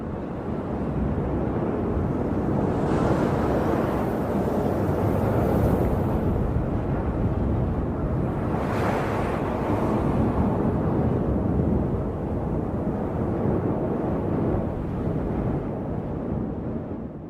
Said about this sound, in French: Il est possible qu'on puisse entendre le hurlement du vent sur Pluton,